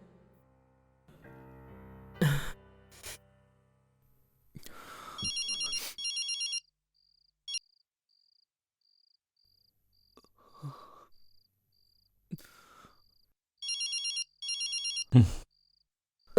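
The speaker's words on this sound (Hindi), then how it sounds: "फोन उठा यार, फोन तो उठा ले यार।" A telephone ringtone in a dubbed South Indian crime film scene rings in two separate bursts, each a few seconds long, with quiet pauses and scattered knocks and thumps between them; no one speaks.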